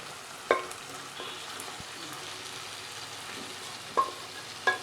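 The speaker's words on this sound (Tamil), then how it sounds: "நம்ம குக் பண்ணி வச்சுருக்கிற மட்டன் பீசஸை இப்போ இதில் சேர்த்துடலாம்" Cooked mutton pieces go into frying masala for pepper chukka and get stirred, a steady sizzle with a few sharp clinks and scrapes of the spoon against the pan.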